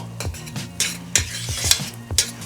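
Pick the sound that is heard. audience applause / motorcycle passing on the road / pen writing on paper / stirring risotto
stirring risotto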